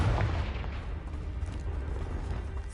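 A Confringo fire spell detonates in Hogwarts Legacy, a loud booming blast that rumbles heavily at first and then fades into a sustained low roar.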